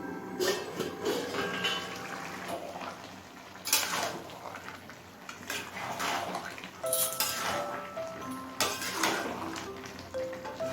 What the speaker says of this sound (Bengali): মিনিট দশেক পর ঢাকা খুলে নিচ্ছি